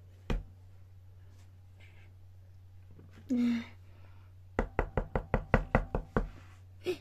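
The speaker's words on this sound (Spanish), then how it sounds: "Alguien llama a la puerta, voy a abrir." Knocking on a door during play with Bluey toys: a single knock, then after a short rustle a quick series of about nine crisp, evenly spaced raps, close and clear over a low steady hum.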